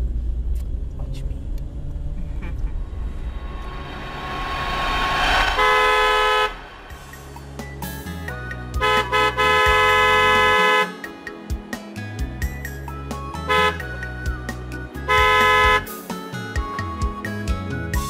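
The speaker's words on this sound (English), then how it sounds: "We've been honking." A car horn honks repeatedly: long sustained blasts and shorter toots broken up by pauses, loud and close, after an engine rumble builds up at the start.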